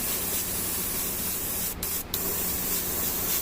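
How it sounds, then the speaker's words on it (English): An airbrush sprays red paint onto a tabletop miniature, a loud steady hiss of air and paint that briefly cuts out twice in quick succession before resuming. "Squirt, squirt, squirt, spray, spray, spray."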